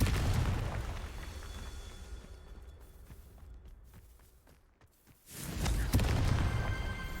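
A Confringo fire spell blasts in the Hogwarts Legacy video game: a loud, booming explosion rolls out and fades over several seconds, then a second heavy burst hits near the end, with no talking.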